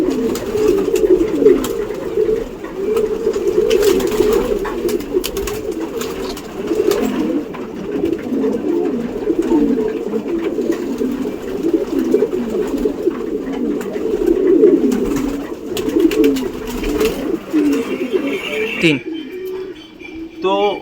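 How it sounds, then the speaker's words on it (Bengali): Pigeons coo steadily and close by as the flock comes down from above and lands, a continuous throaty murmur that runs unbroken for about nineteen seconds and then cuts off abruptly. "দেখুন পায়রা কত সুন্দর নিচে একা একা নেমে যাচ্ছে দেখুন একা একা সব নামছে পায়রা"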